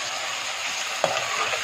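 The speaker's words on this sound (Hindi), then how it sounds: "तो इतना ये इसमें हम भून लेंगे" Pieces of meat (gosht) for dahi gosht fry in a pot with a soft continuous sizzle, broken by one brief stirring scrape near the end.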